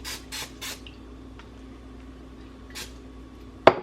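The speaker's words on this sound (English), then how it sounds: "If you spray your measuring cup before putting in honey or maple syrup, you know, things like that, it'll pour out a lot easier." Cooking spray from an aerosol can misting into a measuring cup in a home kitchen, three short hissing bursts followed by a fourth one later, quiet and close, with a sharp clink at the end.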